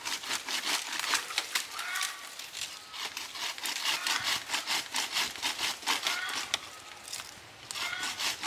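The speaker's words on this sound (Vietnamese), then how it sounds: "Rồi mình cắt ngang đây, mình cắt mình vô mình cưa ngang đây." Hand saw cutting across a bamboo root, a steady back-and-forth rasp of rapid strokes, close and fairly loud throughout with a short pause midway.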